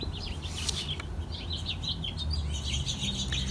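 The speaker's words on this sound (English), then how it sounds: "I have to apologize for the birds in my yard here." Small birds chirp and tweet continuously in a backyard where they feed on seed, a steady busy chorus of overlapping high calls close by, with no speech.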